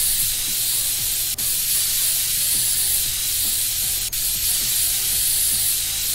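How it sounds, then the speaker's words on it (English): White spray paint hissing steadily from a can in one continuous burst, close and fairly loud, with two brief pauses in the spray and no talking. "So, let's take our spray paint and then spray it."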